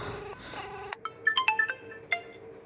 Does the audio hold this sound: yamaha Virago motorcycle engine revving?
no